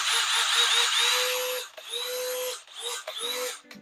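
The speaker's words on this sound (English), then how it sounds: "Let's hear it for this drill." A Dewalt DCD805B 20V Max cordless hammer drill runs in close, loud bursts of high motor whine, the pitch rising and falling as the trigger is pulled and released several times.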